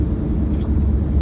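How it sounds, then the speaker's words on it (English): A tuned car engine rumbles loud and close with a steady low roar, flames shooting from its exhaust ports, a slight swell midway through the short burst. "You'll see the flames are shooting out of this car's exhaust holes, out of his portholes."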